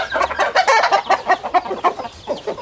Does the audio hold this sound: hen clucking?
yes